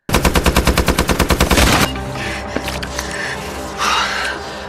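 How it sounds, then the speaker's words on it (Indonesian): Rapid bursts of heavy automatic gunfire in a steady rhythm, loud and close, then a quieter stretch of scattered crackling noise and distant rumble. "merangkak di bawah tembakan yang begitu banyak"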